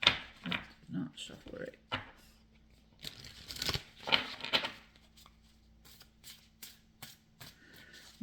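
Cards riffle and slap together in several short bursts, with papery rustling and tapping in between, close up and fairly quiet.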